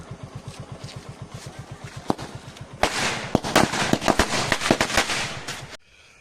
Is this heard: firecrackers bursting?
yes